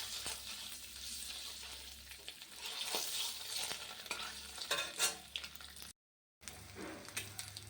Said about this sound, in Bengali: দেখো একটু হলদি আর নুন দিয়ে ডিমগুলোকে ভালো করে ভেজে নিই